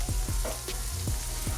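Two eggs hitting a hot griddle beside blackened fish and grits, sizzling steadily and close up, with soft repeated low thumps of handling under the constant frying hiss and no talking.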